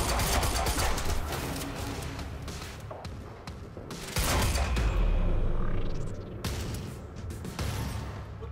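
Sustained gunfire in the video game Quantum Break, dense bursts of shots and heavy impacts rising and falling over several seconds, with a brief lull and a rising whoosh in the middle.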